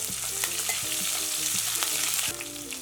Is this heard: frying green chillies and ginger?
yes